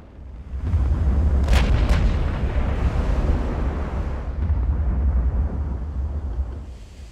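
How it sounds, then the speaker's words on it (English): Heavy 18-inch naval guns fire in the warship game Ultimate Admiral: Dreadnoughts, two sharp booms close together followed by a long rolling rumble and wind-like roar that slowly fades, with no voices. "Guns have a very satisfying sound to them."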